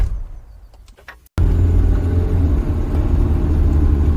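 A car engine catches after a brief quieter moment and settles into a loud, steady, close rumble as the vehicle pulls away.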